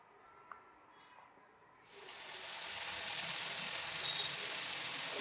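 Mustard paste ground with green chillies goes into hot oil, and after a quiet start a loud, broad sizzle breaks out suddenly and holds steady, close by with no talking.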